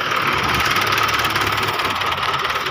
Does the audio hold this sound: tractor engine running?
yes